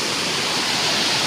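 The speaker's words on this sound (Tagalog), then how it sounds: "ang lalakas ng tubig niya" Rushing floodwater from canals and creeks after heavy night rain roars as a dense, steady wash of noise, loud and continuous with no breaks.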